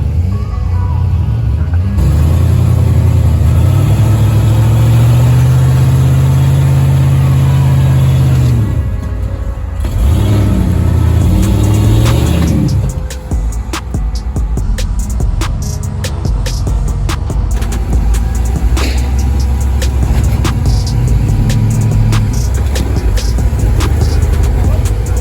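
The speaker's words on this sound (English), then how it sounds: "Matt Brissy likes pushing his Jeep TJ up through this trail" Jeep TJ rockcrawling up the Rear Steer Trail in Moab at night, its engine a loud low rumble that revs, drops off briefly and then climbs again, with clanks and crunches of rock under the tires.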